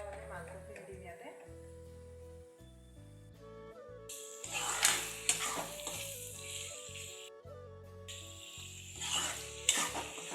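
Duck meat goes into a hot pan of oil and spices for an Assamese duck curry with ash gourd and sizzles loudly in close bursts while being stirred, with music and a voice talking underneath.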